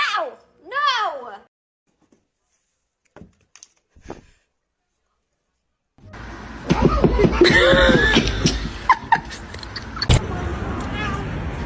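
A cat meows in a rising, wavering cry at the start, followed by quiet gaps with a few soft clicks, then a louder stretch of voices talking over household noise.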